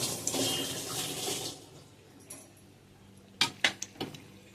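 Water poured into a pan of spice masala for a coastal dried-fish dish, a soft splashing trickle that fades, then a few sharp clinks of a utensil against the pan, quiet and close.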